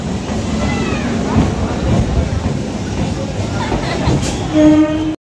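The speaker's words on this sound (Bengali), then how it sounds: "বন্ধুরা, এই হচ্ছে আজকে আমাদের ট্রেন সোনারপুর লোকাল" A Sonarpur local electric train at Sonarpur Junction station gives a continuous rolling rumble with a few faint squeals and a brief louder swell near the end, heard alone without clear talk.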